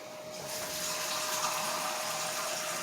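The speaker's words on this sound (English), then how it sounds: "So I add some more water to this thing and let it boil." Steady running water pours continuously into a cooking pot, a fairly loud broadband rush with no talking.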